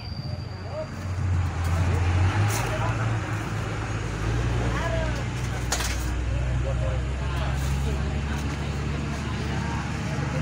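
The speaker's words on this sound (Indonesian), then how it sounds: "terpantau kendaraan menanjak ke atas" Vehicles climb an uphill road, their engines droning and labouring steadily at moderate distance, with a continuous low rumble of traffic.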